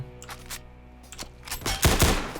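Rapid gunfire from a Roblox take on CS:GO, a loose burst of shots early on building to louder, closer volleys near the end, with no talking.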